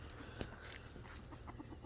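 Backyard hens cluck softly in a steady patter, including a large hen, with faint scattered calls over a quiet, hissy background.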